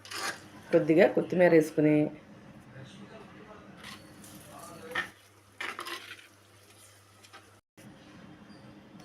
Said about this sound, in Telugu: ఈ వెల్లుల్లి కారం అంతా గుడ్లకు పచ్చేలా బాగా కలుపుకోవాలి.